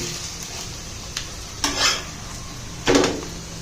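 Chicken snacks sizzle quietly in hot oil while a utensil clinks and scrapes against the pan a few times, close by.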